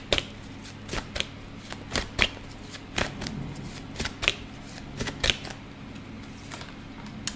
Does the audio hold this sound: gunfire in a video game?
no